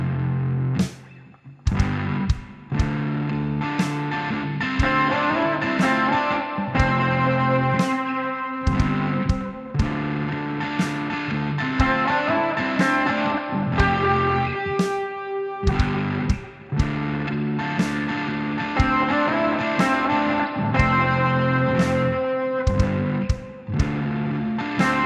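Distorted electric guitar plays a driving chorus riff with repeated octave figures, a full, loud and continuous sound with brief stops between phrases and no talking.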